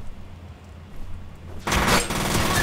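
Gunfire in the shooter game F.E.A.R. bursts in suddenly after a quieter stretch, a loud, dense automatic volley that keeps rattling steadily to the end.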